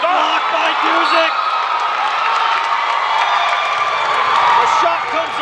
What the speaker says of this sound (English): you can hear this crowd is crazy